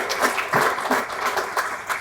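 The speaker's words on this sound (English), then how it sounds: "please give them a round of applause" Audience at a senior living community's annual meeting clapping in a continuous, moderately loud round of applause with no voices.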